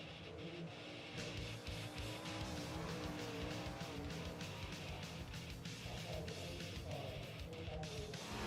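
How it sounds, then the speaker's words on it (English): Pro Series 410 sprint cars racing at a Thunder Racing League championship night, a continuous loud roar of several engines with rising and falling revs and pass-bys under an announcer's faint voice. "The Pro Series 410 Sprint Cars kicking off the championship night here for the Thunder Racing League."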